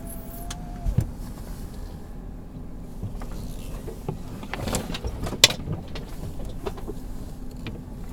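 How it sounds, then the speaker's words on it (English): A car's power window whirs up for about a second near the start, then the steady low rumble of the vehicle creeping through trees carries on, with scattered clunks and brushing sounds. "I'm going to roll up my window so I don't get slapped in the face."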